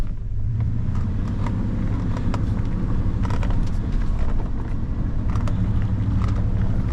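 A truck engine drives on steadily with a continuous low rumble, plus wind and road noise throughout, heading up a rough track toward a hunting camp in Georgia.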